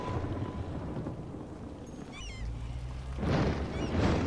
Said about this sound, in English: A thunderstorm is battering the city